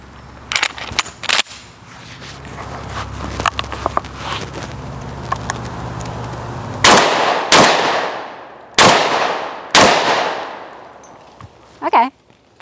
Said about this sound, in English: I'm gonna do 4 rapid fire, but I'm still gonna try to hit the whiteboard